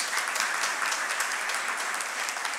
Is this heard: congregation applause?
yes